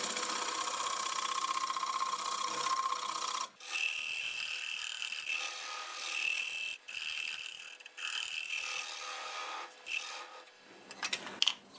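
Turned guava wood is sanded on a spinning lathe with 80 grit paper, a continuous close, loud abrasive rasp that changes texture in several passes with brief breaks.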